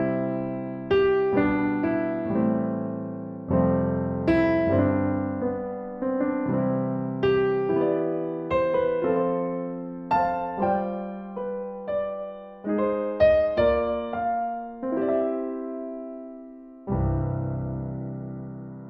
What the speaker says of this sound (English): Cine Piano is always my go-to trusted piano.